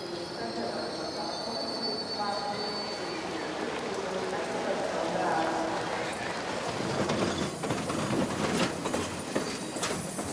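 Crowded suburban trains roll through Estação da Luz station, a sustained rumble with high wheel squeals and clattering rail clicks building toward the end, with a voice speaking over the noise.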